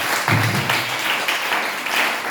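Church congregation at a Pentecostal-style service in Abidjan applauding, dense continuous clapping from a crowd filling the room, loud and steady throughout.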